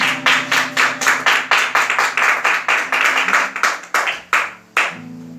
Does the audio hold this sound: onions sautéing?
no